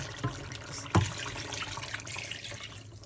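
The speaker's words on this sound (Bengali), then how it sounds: "এখন আমি পানি দেব।" Water poured into beef that has been cooking down in a pan makes a splash and a short gurgling pour, then a soft bubbling simmer that carries on quietly.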